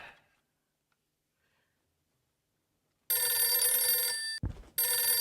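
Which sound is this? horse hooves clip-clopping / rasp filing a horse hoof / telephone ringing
telephone ringing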